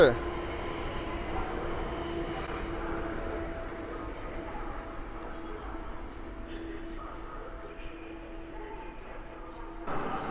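An SKM Warszawa Impuls Europejczyk electric multiple unit pulls away on line S3 at Warszawa Zachodnia station, producing a continuous moderate rumble with a sustained motor whine that holds steady throughout.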